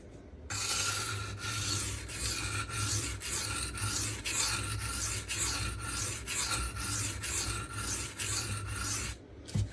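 A Magnacut steel knife blade is stroked repeatedly across Shapton Pro sharpening stones, producing a steady rasping scrape in an even back-and-forth rhythm, close-up and continuous without speech.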